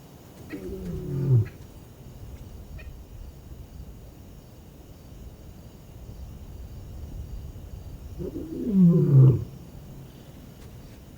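Adult lions in the Namibian desert calling out for a missing cub: two separate low, moaning calls about eight seconds apart, moderately near, with quiet ambience and no talk between them.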